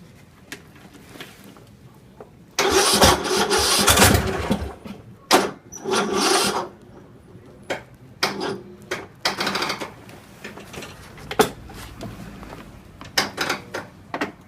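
A cold engine at -13 cranks over on a freshly charged battery, choke pulled out, in a sustained loud grinding burst followed by shorter intermittent cranking attempts and clicks, close by.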